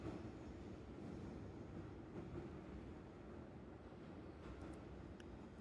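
A video game train rolls along at steady speed with a continuous low rumble and faint rail clatter, heard from inside the carriage with no voices.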